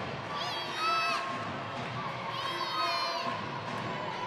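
Netball crowd at a Gibraltar v Republic of Ireland Europe Open Challenge match cheering and shouting for Gibraltar, with two louder swells of high children's shouts over a steady indoor crowd roar and commentary.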